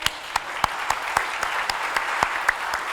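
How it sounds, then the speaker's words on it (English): Applause from a book awards audience, moderate clapping with a few sharp, distinct claps standing out above a steady patter, continuing evenly. "I think we should give everybody a round of applause for their readings today"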